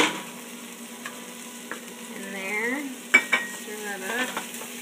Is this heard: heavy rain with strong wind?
no